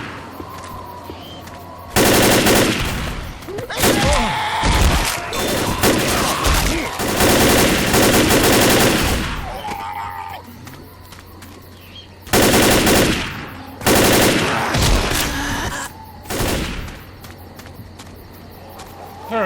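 Sustained automatic gunfire in the Left 4 Dead video game, set in a train yard and town: long loud bursts of rapid shots separated by quieter gaps, with a few shorter volleys later.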